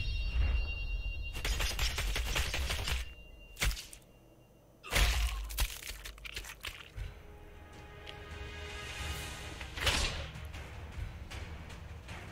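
In the video game The Iron Oath, gunfire comes as sharp whip-like cracks and bursts separated by brief quiet gaps, layered over busy game sound effects.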